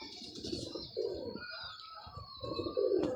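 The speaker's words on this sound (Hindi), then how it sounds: "क्रीज में कबूतर पड़ा हुआ है" A pigeon coos up close in a few low, throaty bursts, with soft chirps and a faint flutter between them, set against a thin background of distant birdsong.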